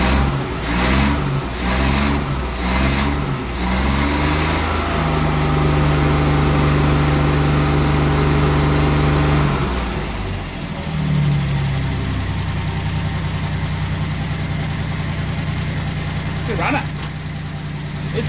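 A 1964 Triumph P2500 barn-find car engine cranks in a few rhythmic bursts, catches and settles into a loud, close, steady idle with rises in pitch as it revs, while people talk nearby.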